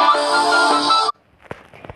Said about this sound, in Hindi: ये ब्यूटीफुल इंस्ट्रूमेंटल रिंगटोन वाला